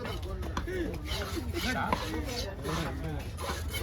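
A 22 kg trevally is chopped at the Kasimedu fish market, with a rapid, uneven run of sharp blade strikes against fish and board. Nearby voices talk underneath the cutting.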